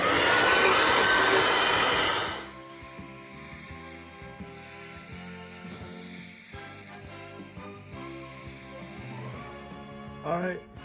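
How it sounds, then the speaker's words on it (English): A blow dryer runs on leather filler on an Oldsmobile Toronado Trofeo car seat. Its loud, steady airy roar fills the first couple of seconds, then cuts off, leaving quieter handling noises. "I'm gonna use the blow dryer. Try to get it to dry quicker."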